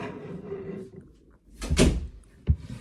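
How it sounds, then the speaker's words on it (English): A door swings shut in a home with a solid thunk and a short rattle, followed by a second dull knock, close by and fairly loud after a quiet stretch of faint room noise. "Close my door, please."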